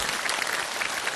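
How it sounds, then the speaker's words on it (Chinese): Studio audience at a Shenzhen TV health programme applauding in welcome, a dense, even patter of clapping throughout the brief moment. "掌声欢迎今天到场的观众朋友们"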